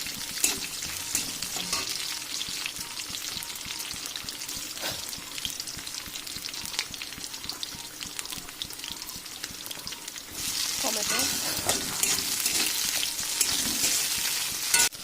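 Vegetables including potato, eggplant, carrot, beans and radish fry in a pan with dried fish, a loud continuous sizzle broken by scraping stirs, swelling louder near the end as more go in.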